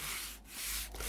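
Sanding in bookbinding: quick abrasive rubbing strokes against a book's edge, a close, steady rasping hiss that dips briefly twice between strokes, with no voices.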